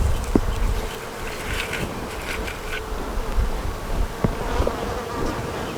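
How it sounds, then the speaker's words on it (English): Honeybees buzzing steadily around a hive during an inspection of a frame of comb, a close, continuous insect drone with soft wind brushing the microphone and no talking. "These bees right here"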